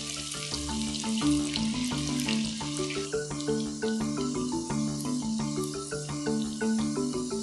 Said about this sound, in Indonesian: Pertama saya goreng tempe dulu karena tempe nggak gitu banyak air ya.